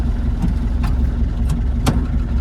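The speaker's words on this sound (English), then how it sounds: "this is the 12J naturally aspirated diesel test drive" A 1986 Land Rover 90 pickup's 12J naturally aspirated diesel engine runs steadily on a test drive, a loud continuous drone with a few brief higher whooshes or clunks over it, no talking.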